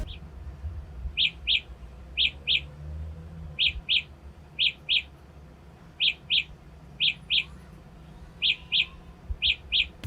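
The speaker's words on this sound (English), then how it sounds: "it will play a loud chipping bird noise, and so you can find your buds easily" A loud electronic chirping bird alert from Samsung Galaxy Buds Live earbuds repeats in quick double and triple tweets at a regular rhythm over a low background hum.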